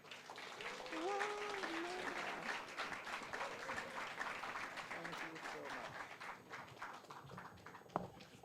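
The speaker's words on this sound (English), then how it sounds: "One more round of applause for the" Audience applause fills a lecture hall at a memorial lecture, a dense, fairly quiet wash of clapping that holds steadily throughout, with voices mixed faintly underneath.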